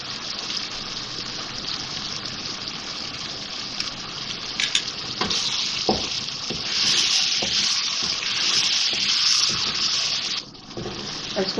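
Beef pieces frying with yogurt in a pot for degi biryani give a steady, dense hiss and sizzle that swells and fades, with a few brief clinks, and no one talks over it.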